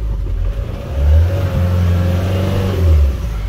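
A Mahindra Thar climbing uphill on a rainy countryside road, its engine droning low and steady from inside the cabin and swelling in two revving surges, with no talk.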